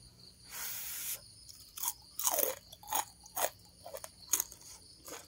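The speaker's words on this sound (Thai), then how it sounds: "นี่นะคะปูทอดกินอย่างนี้เลยกินหมดนี่เลย" Someone bites into crunchy fried crab and chews it up close, producing a string of loud, irregular crunches and cracks separated by short quiet pauses.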